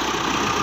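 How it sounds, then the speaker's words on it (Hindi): A tractor engine idling or running nearby in a village on a morning, a steady mid-pitched rumble with a faint knocking pulse, continuous and fairly loud throughout. "चाचा गामा भी ट्रैक्टर लैके आ चुका"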